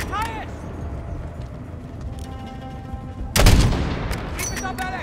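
Gunfire in the Call of Duty: Modern Warfare (2019) video game, with a sharp loud blast partway through and further shots around it, while in-game voices shout over rumbling background action.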